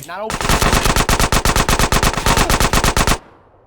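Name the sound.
gunfire in the video game GTA San Andreas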